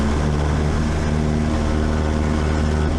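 A light aircraft engine runs at full throttle during a takeoff after a go-around, a loud, steady, close droning roar with a constant propeller hum that fills the whole stretch.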